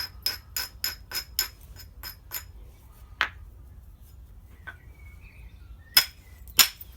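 A flint hammerstone knocks sharply against the edges of a flint handaxe in a quick run of six or seven crisp strikes, then a few isolated clacks after a pause.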